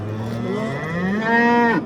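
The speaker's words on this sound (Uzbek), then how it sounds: "Mana sigirlarimiz." A cow at a livestock market lets out one long, loud moo that rises in pitch, holds, and then cuts off. Nothing else is heard alongside it.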